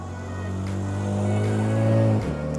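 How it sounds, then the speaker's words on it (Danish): A Porsche GT3 RS roars close by on a dynamometer at a car meet, its engine note holding a steady, loud drone that climbs slightly before dropping off near the end. "Det larmer ret meget at stå så tæt på en bil, der kører så stærkt på hjulene"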